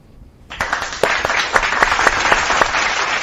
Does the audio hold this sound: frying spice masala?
no